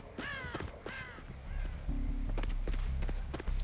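Several crows in the video game Dead by Daylight caw in quick harsh calls as they take flight, then a low rumbling din swells beneath a few more distant caws.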